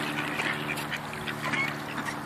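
Several ducks at a park quack repeatedly in a busy, overlapping chorus at moderate distance, with no talking.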